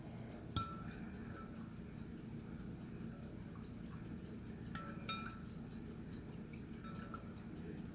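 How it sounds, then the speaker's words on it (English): A spoon stirs honey into homemade elderberry syrup with spices in a glass or pot, producing sparse faint clinks and ticks against the container, with two sharper knocks standing out over quiet room background. "Just gently stir until the honey's mixed in with the elderberry and the spices"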